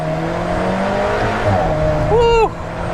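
An Alfa Romeo 4C accelerates hard, its engine note rising steadily as it pulls. A brief whooping shout cuts in near the end and then stops abruptly.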